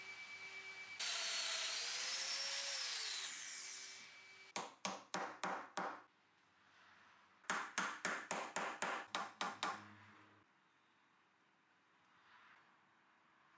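A domino joiner cuts mortises into a wooden furniture leg: one long, loud motor whine for several seconds, then two bursts of short, sharp plunge cuts repeated in quick succession, all without any talk.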